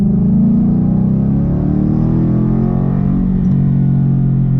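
A loud car engine fitted with a Ford Performance Stage 3 kit revs and rumbles up close, its pitch rising and then settling into a deep, steady growl.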